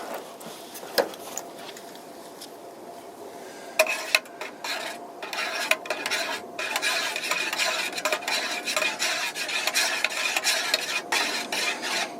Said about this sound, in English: I think I gotta stir.